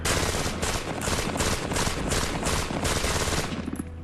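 Sustained bursts of automatic fire from a light machine gun, loud and close, with rapid rhythmic reports pulsing steadily for several seconds before cutting off near the end.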